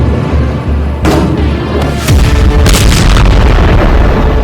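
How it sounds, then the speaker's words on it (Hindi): Serial explosions at night in southern Lebanon, with buildings being hit: several heavy, loud booms over a continuous rumbling roar, with no voices. "घुप अंधेरे में दक्षिणी लेबनान में सीरियल धमाकों का ये पार्ट 2 है।"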